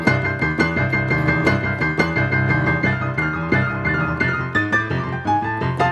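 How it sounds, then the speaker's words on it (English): Rock and roll piano licks and riffs played as a continuous busy passage, bright percussive chords and quick runs over a rhythmic left hand, clear and close with no talking. "What you just heard are basically licks and riffs that I have combined."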